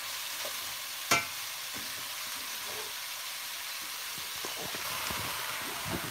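Curry ingredients fry in a pan as a home-style curry made with store-bought roux cooks, giving a steady, close, broadband sizzle throughout, with one sharp clink of a utensil early on and no talking.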